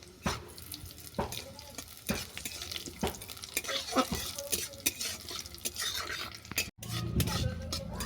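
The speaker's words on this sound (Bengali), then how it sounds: "এরপর কড়াতে তেল দিয়ে জিরে লঙ্কাটাকে ভেজে নেব" Cumin and green chilli fry in oil in a wok, a close sizzle broken by repeated sharp clinks and scrapes of a spatula stirring, with a brief hard knock near the end.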